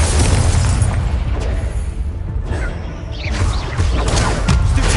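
In Hogwarts Legacy, an Incendio fire spell bursts into a loud, roaring blast. A dense, booming rumble fills the whole five seconds, with crackling and whooshing flares on top.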